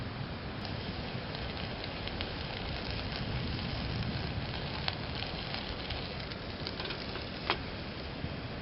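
Pot of mussels coming to the boil on a stove, a steady soft bubbling hiss with occasional faint pops and crackles, low and unbroken throughout.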